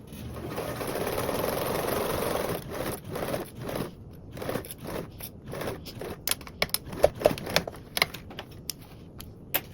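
A home sewing machine back-tacks and bastes over a zipper, its motor whirring steadily, then breaking into short bursts and rapid stitching clatter as the needle works over the bulky seam, close and clear.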